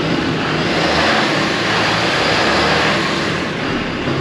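A loud, steady diesel engine roar drones without a break, a dense rumbling noise close by in an auto repair shop.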